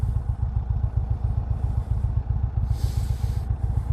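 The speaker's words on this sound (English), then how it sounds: "The exhaust sounds incredible." A 2021 Indian Roadmaster motorcycle engine burbles with a rapid, throaty exhaust pulse, loud and close, running steadily throughout.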